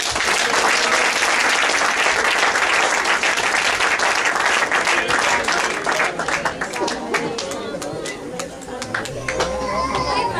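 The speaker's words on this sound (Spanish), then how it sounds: "démosle palmas al Señor." A wedding ceremony congregation claps loudly in a church-like hall, a dense, sustained burst of many hands that thins slightly toward the end, with scattered voices mixed in.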